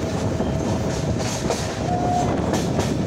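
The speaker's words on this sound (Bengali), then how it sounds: "ট্রেনটা এত জোরে স্পিডে চলছিল, বনগাঁ লোকাল এত জোরে চলছিল" A Bangaon local passenger train runs fast, heard close with a dense, continuous roar and repeated wheel clatter, plus a brief tonal squeal partway through, with no talking.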